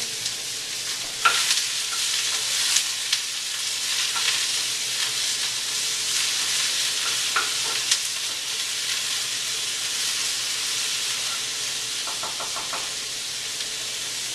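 Steady, broad sizzling of chicken frying in hot olive oil, close and continuous, with a few soft clinks and taps of utensils against the pan.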